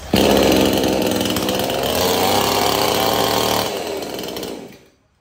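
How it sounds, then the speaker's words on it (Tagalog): A 22-inch chainsaw roars loudly and steadily at close range, its engine buzzing continuously before cutting off and fading into silence near the end. "chainsaw 22 inches"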